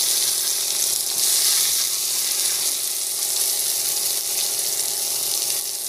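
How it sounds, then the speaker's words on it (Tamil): Chopped onion sautéing in a pan with oil, a steady bright sizzle that stays loud and continuous from start to finish, with no voices. "ஸோ வெங்காயம் வந்து ஆட் பண்ணிக்கலாம்."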